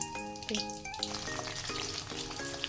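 Thick-cut onion pieces frying in refined oil in a pan, a steady soft sizzle with faint scraping and clinks, alongside tonal music throughout.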